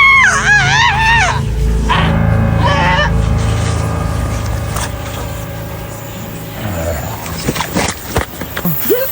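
A girl screams in high, wavering bursts near the start, with a second shorter cry soon after, loud and close over a low rumbling background of engine-like noise and scattered thumps.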